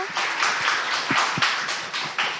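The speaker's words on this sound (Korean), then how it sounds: "다들 박수 부탁드릴게요" A forum audience in a lecture hall claps together, a dense burst of steady applause that carries on for a couple of seconds, close and loud with no talking over it.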